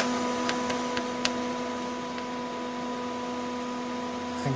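A 40 volt DC motor run from an H-bridge speed controller gives a steady electrical whine and hum with a few faint ticks, constant and close throughout.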